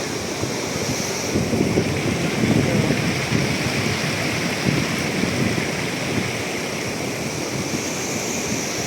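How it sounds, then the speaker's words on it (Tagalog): River water rushes and laps steadily at a riverside in Norzagaray, Bulacan, a broad continuous wash with gentle swells, mixed with some wind noise on the microphone and no talking. "Taas na lang alon."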